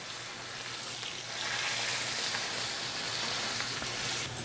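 Steak sears in a hot pan with rendered fat, a steady close sizzle and hiss that grows louder after the first second and holds alone with no talk.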